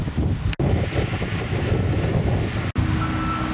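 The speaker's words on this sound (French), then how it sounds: "Il y a du vent, il faut que je me dépêche." Wind blowing outdoors at Parc Beaumont in Pau, buffeting the microphone as a loud, rough rumble that cuts out briefly twice.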